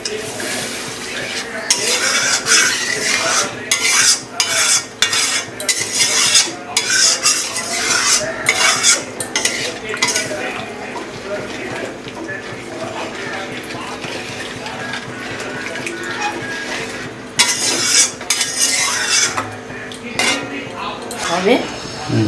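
A spoon stirs a spiced gravy for tilapia fish curry with potatoes in a metal pot, making repeated scraping and clanking strokes over a soft simmer. The strokes come in irregular bursts, with a voice faintly underneath.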